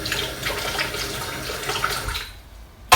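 Running tap water rinsing a whisk coated in meringue mixture, a steady splashing stream that cuts off near the end, followed by a brief sharp knock.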